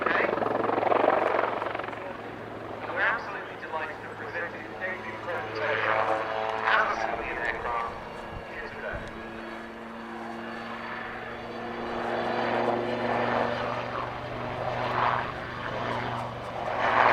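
A Westland Lynx Wildcat military helicopter's rotor thumps and engine whine drone steadily nearby at an airshow, while someone narrates over the noise throughout.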